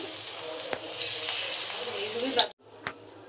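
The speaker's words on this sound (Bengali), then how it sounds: "দুটো করে একবারে ভেজে নিচ্ছি।" Gram flour batter fritters frying two at a time in hot oil, a steady broadband sizzle with a few soft clinks, cutting out abruptly near the end before a quieter hiss resumes.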